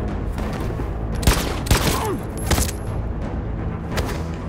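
Gunfire in the video game Detroit: Become Human, with a few sharp, loud shots and booming impacts spaced irregularly over a dense, rumbling battle background.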